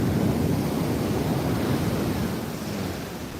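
Big ocean waves pound the beach at Muaro Bayang in bad weather, a dense continuous roar of surf mixed with wind buffeting, loud and close, easing slightly toward the end.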